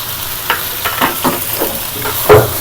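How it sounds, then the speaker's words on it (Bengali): Rice and mixed spices with ginger-garlic paste fry in a pan, pulao-style. A steady close sizzle runs throughout, punctuated by several distinct scrapes and clatters of stirring, with no talking. "এখন পাঁচ মিনিটের মতো ভেজে নেব সুন্দর করে একদম পোলার মতোই ভাজা হচ্ছে"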